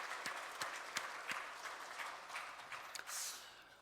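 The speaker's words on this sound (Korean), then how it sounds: "우리 영광 받으신 주님께 감사의 박수" Scattered congregational clapping in a Korean church service, a handful of distinct hand claps at first that thin into a faint, uneven patter, fairly quiet overall.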